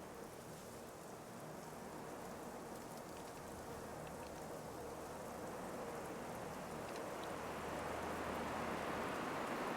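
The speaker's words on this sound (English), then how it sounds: "It's just wonderful to be walking in a forest, listening to rain." Steady, dense rain falls in a forest in the video game Generation Zero, a constant hiss of soft patter with no talk, growing slightly louder toward the end.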